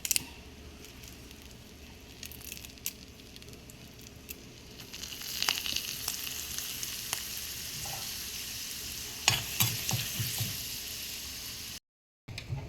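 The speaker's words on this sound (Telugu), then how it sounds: "తిరగమాత కాగిందండి." Turmeric and curry leaves tempering in hot oil for curd vadas, giving a steady close sizzle and crackle that swells midway with sharper spatters and pops, then cuts out briefly near the end.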